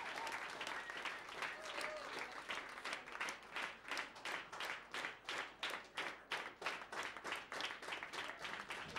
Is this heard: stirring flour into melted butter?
no